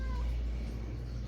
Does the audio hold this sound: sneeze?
no